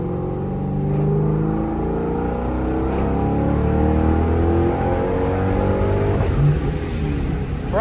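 A NewEdge Ford Mustang accelerates hard with a steady, rising engine drone heard from inside the car. The pitch climbs, then drops as it shifts into second gear near the end.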